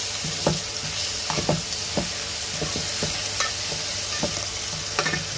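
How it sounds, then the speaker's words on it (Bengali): Browned onions sautéing with spice paste in a pan for mustard hilsa, a loud constant sizzle with repeated scraping stirs of a spatula, close and without talk. "দেখতেছেন আমার পেঁয়াজগুলো লাল লাল হয়ে এসেছে। আমি যদি একটু ভালোভাবে কষাবো এগুলোকে।"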